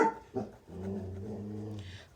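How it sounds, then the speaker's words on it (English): A dog nearby gives a couple of short barks, then a low drawn-out growling whine, fairly quiet. "That's my dog Grace in the background barking"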